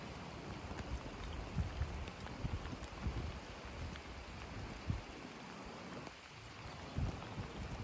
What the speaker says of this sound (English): it's raining out there now